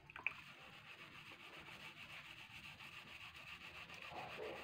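Red banana scrubbed with soap by hand, a soft continuous rubbing and rasping sound, faint and close, with a brief knock near the start and no talking.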